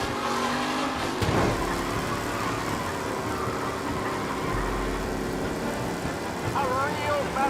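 Several race cars roar steadily in Mafia: Definitive Edition, engines droning loud and continuous with a brief swell of revving, as a commentator talks over the racing.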